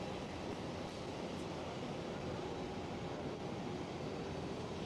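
A Cathay Pacific Boeing 747-400 at Amsterdam Schiphol airport gives a steady, unbroken jet roar heard from a distance, with no talk over it.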